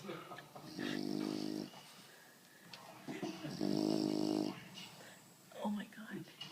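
A sleeping bulldog snores in two long, rough, rumbling breaths close to the listener, followed by a shorter snort, with quiet room noise between them.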